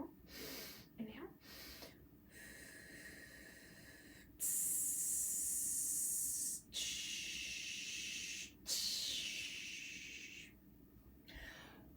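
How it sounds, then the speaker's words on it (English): Slow, deep inhalations during a core-focused meditation, lying with hands behind the head. Three long, airy, hissing breaths are drawn close to the microphone, separated by short gaps. "Focus on the sound of your breath."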